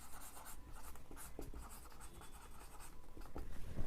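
Marker or chalk writing on a board during a class 6 maths lesson, a continuous scratchy stroking sound with short taps, close and fairly loud over a quiet room, no voices.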